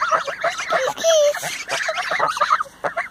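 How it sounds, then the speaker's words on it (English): Pilgrim geese honk nearby in a muddy farmyard, sounding as a cluster of short nasal calls with one longer clear honk, mixed with a person talking. "Geese, geese, geese, geese."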